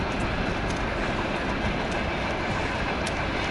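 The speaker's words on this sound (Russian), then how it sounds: "Слышно, поезд уже. К станции подходим." A train arriving at a station rumbles steadily nearby with a dense, continuous roar and faint rhythmic wheel clatter on the rails, no voices.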